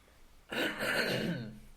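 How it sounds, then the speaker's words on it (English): A single throat clearing, close and fairly quiet, a rough rasp lasting about a second after brief silence. "No clearing your throat while you're recording."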